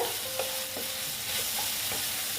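Potatoes and radish fried dry without water in a pan, a close, steady hiss with a faint tone running under it and several short scraping stirs spaced through the clip.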